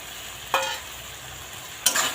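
Split jujubes are stirred into boiled tomato in a pan, with two short, soft scraping bursts set against quiet background hiss.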